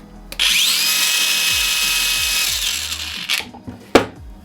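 A Bosch cordless angle grinder with soft start whines up to a high, steady spin for a few seconds, then winds down, followed by a couple of sharp clicks.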